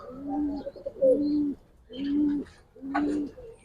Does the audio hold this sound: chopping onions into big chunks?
no